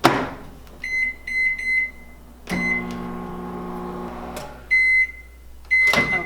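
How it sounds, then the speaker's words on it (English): Microwave keypad beeps in quick series, then the oven door thuds shut and the appliance hums steadily for a couple of seconds while heating sticky rice, before more beeps. "I will put the sticky rice in the microwave and set the timer for 5 minutes."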